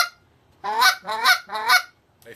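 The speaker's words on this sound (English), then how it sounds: "A fast, sharp, aggressive cluck is going to get a goose's attention and pierce their ear better than an elongated honk." Three fast, sharp clucks blown on a goose call, close and loud, each a brief honking burst in quick rhythm, followed by the start of a fourth.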